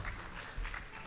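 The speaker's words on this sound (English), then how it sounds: "A big round of applause to Nancy Sumari, Jenga Hub." An audience at Innovation Week Tanzania 2021 applauds Nancy Sumari of Jenga Hub with a brief, soft patter of clapping heard from a distance.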